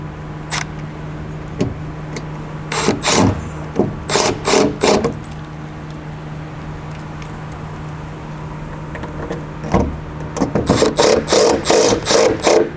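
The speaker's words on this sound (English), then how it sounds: "To reinstall your light, insert your screw into the light." A light is screwed into a boat's center tackle storage lid with a power screwdriver in several short whirring bursts, separated by quiet gaps over a faint steady hum.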